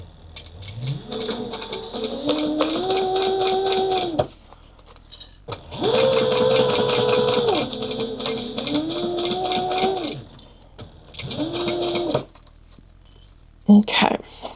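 A sewing machine back stitches a clutch wallet, whirring in sustained runs with rising and falling motor pitch, broken by short pauses and a few clicks, with a voice between runs.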